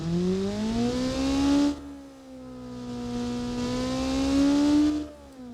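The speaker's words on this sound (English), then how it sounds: "Maybe it's just because I'm revving it so high then." High-revving engine of a Cherrier Vivace in BeamNG.drive, a loud sustained whine that climbs, dips briefly, then rises again before cutting off, with no talk.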